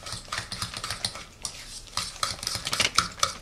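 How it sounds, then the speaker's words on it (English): Rapid, irregular clinking and scraping of a utensil against a bowl as egg is beaten into a sugar and butter mixture for a pomegranate pound cake, close and fairly loud, with no talking. "Now you beat this in to the sugar and butter mixture."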